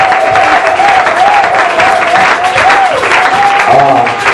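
A church congregation applauding together, dense steady clapping from many hands close and loud, with a voice singing or calling out over it.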